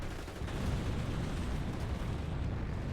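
A dense, rumbling explosion roar as a Panzer IV takes out an infantry squad in the video game Company of Heroes, a sustained heavy blast with crackling debris filling the whole moment, loud and close.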